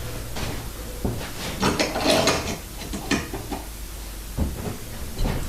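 A table saw's blade is cranked all the way down with its height handwheel, giving a run of close, rhythmic ratcheting and gear clicks in short bursts over a low hum.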